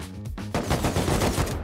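Rapid automatic gunfire in the survival game Rust during an online raid, a dense burst of loud repeated shots that intensifies after a brief lull.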